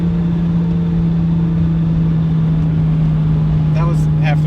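An 800-horsepower Nissan Skyline R34 engine pulls at half throttle, heard from inside the car as a loud, steady low drone, with voices coming in briefly near the end.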